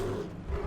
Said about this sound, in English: That's a bear!